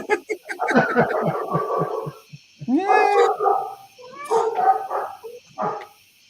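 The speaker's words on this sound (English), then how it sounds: "You hear those dogs? You hear those dogs?" Several dogs bark in short bursts, some sharp and yappy, with a few pauses between volleys; fairly close and loud.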